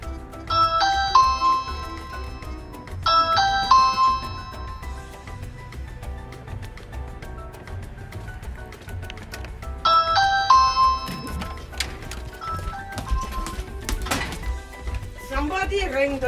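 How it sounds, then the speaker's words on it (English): Ring video doorbell chiming its melodic ring tone three times, clear and fairly close, followed by clatter and household noise, with people talking over parts of it. "Somebody rang the doorbell."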